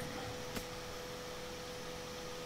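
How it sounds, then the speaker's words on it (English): A steady, even whir of an electric fan running close by, a constant broadband hum with a faint tonal drone and one brief click. "Sorry about the fan, but"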